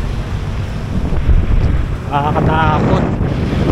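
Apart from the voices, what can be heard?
strong wind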